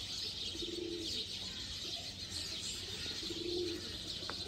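Sialkoti black-faced pigeons coo in soft, repeated low calls, two clear bursts close by over a steady airy background hiss, with no talking.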